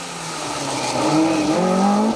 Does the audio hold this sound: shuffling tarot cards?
no